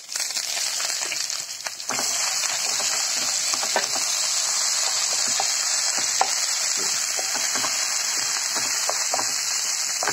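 Lentils, fenugreek seeds and neem leaves dry-roasting on a stone dosa tava, a steady bright sizzle with scattered crackles and scraping stirs, close and continuous.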